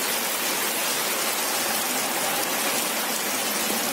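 Rain in Yantarny in the Kaliningrad region hisses in a steady, dense wash of drops, close and loud throughout with no voices.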